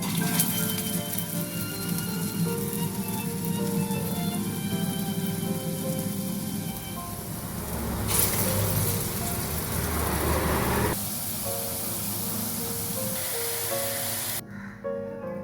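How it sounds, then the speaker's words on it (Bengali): Small red lentil fritters deep-fry in hot oil, filling the clip with a loud, continuous, close-up sizzling hiss that shifts slightly in texture as batter is added. "ছোট ছোট করে বড়াগুলো ভেজে নিচ্ছি"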